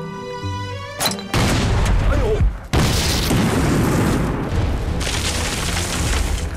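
An artillery shell explodes with a loud boom in a Chinese war film battle scene, followed by a long rumbling roar of debris and fire and a second sharp blast; brief shouting is heard before it.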